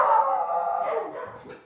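A dog howls in one long, wavering cry that slowly sinks and fades over under two seconds, close and fairly loud, with no one talking.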